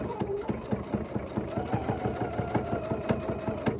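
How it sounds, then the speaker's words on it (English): Husqvarna Viking sewing machine stitching steadily with a narrow zipper foot, a fast, even mechanical rattle of needle strokes running continuously throughout, close and clear. "I'm just going to follow my own stitches, and I'm going to make pretty stitches over those thin stitches"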